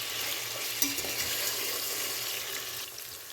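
Homemade tomato paste fries in a pan while being stirred, a soft continuous sizzle with a few scraping knocks, close and fairly quiet.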